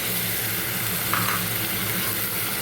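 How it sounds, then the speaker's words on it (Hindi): Tomato puree goes into a pan of cooked masala with the oil separated, producing a steady, moderate sizzle and frying hiss with a brief stir near the middle, no voices over it. "तो अब मैं इसके अंदर डाल रही हूँ ये टमाटो प्यूरी"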